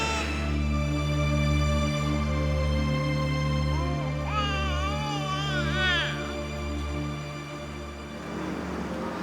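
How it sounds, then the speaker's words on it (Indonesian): A baby cries in a quiet room, the wavering wail rising partway through and then trailing off, over a steady low hum and background noise. "Suara anak kecil. Kok ada anak bayi sih?"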